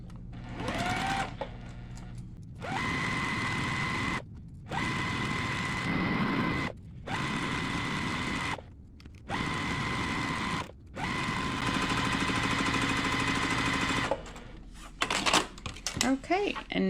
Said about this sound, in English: we're going to go ahead and sew 1/4 inch seam and join those two together